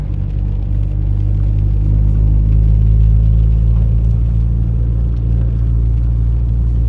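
Toyota Celica GT4 ST185 driving around an industrial park, heard from inside as a loud, steady low engine and road rumble that holds constant throughout with no speech.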